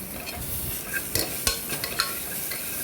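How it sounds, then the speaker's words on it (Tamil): Ingredients sauté in hot oil in a pan for crab soup, with a steady sizzle and a few sharp clinks and scrapes of a spoon stirring, close up with no voices. "பாருங்கள் எண்ணெயிலே வதங்கியாச்சு"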